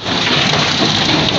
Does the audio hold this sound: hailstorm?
yes